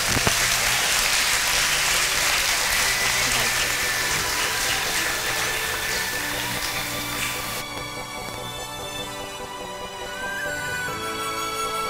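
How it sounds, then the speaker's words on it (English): Audience applause at a school Founder's Day celebration, a dense continuous wash of clapping that fills the first several seconds and then thins out, steady and fairly loud with no talk. "A big round of applause, please."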